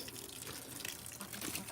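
Water poured out for backyard chickens in hot weather, a short, soft splashing and gushing stream heard close up.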